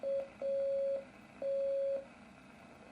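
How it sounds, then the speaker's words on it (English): Morse code beeps from the video game First Winter: a steady mid-pitched electronic tone pulsing in long and short dashes with short gaps between, clear and isolated over a faint low background hum. "Okay, it's playing Morse."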